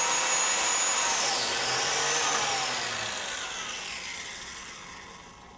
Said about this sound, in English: Turn your biscuit joiner on at the back trigger here.